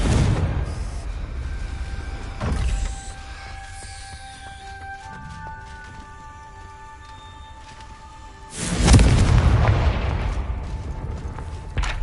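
A Confringo blasting spell detonates in Hogwarts Legacy, with an opening boom, a sparse stretch of ringing tonal game effects and mechanism clicks, then a second loud, rumbling burst of explosion and debris near the end.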